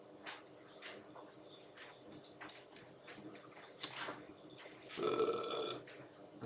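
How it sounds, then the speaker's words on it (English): A loud burp rises over steady background noise during a live football match watchalong, one broad rough eruption lasting about a second near the end, with faint chatter and clicks before it. "And there's a burp."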